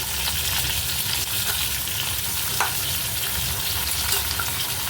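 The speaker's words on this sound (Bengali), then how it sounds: "আলুটা ভেজে কুমড়োটা অ্যাড করলাম" Potato and pumpkin cubes fry in a pan, a steady soft sizzle with occasional stirring scrapes and light pops, fairly quiet and continuous.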